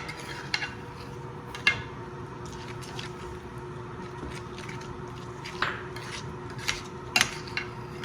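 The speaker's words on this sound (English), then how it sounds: "constant stirring really helps to mix the yogurt" Spoon stirring yogurt into a thick curry with tomatoes in a cooking pot, soft continuous scraping punctuated by light metallic clinks against the pot rim, close and quiet.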